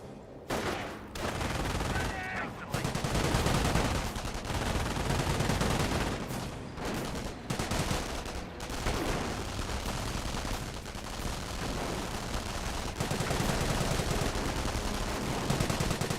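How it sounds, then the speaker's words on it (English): MG42 machine gun in the Company of Heroes battle game, rapid bursts of loud automatic fire repeating amid other gunfire and explosions, with a voice talking over the combat. "MG42 firing away."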